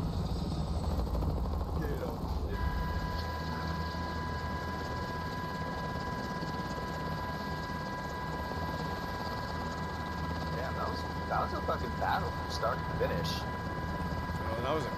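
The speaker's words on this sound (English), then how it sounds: "Get on the chopper." Helicopter in a video game, a steady low rotor and engine drone running throughout with a sustained whine, while players talk over it and brief game effects pop near the end.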